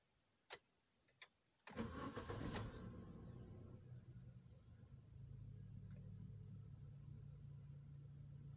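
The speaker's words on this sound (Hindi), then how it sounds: "तो चाबी इग्निशन में पहले से था, इसको स्टार्ट करते हैं।" A few faint clicks, then the 1.4-litre VVT petrol engine of a first-generation Maruti Suzuki Ertiga cranks and catches, revving briefly before settling into a quiet, steady idle.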